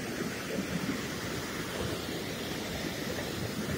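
River rapids rush in Oslo, Norway, as a loud, dense, continuous roar of water. The sound is steady and close, with no talking.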